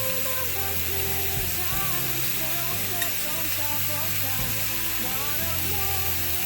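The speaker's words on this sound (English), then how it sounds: "We're going to go ahead and give this a nice stir just so it's not getting too brown on one side" Sliced beef for a Philly cheesesteak sizzles steadily in a hot pan as it is stirred, a continuous loud frying hiss with scraping strokes and no talk.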